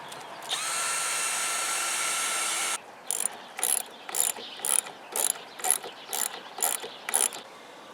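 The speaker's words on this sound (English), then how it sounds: "I'm going to create pilot holes with a bit about half the diameter of the screws" A power drill whines steadily for a few seconds while boring pilot holes in wood for mailbox post screws, then gives way to a rapid series of about ten short ratcheting bursts, close and moderately loud.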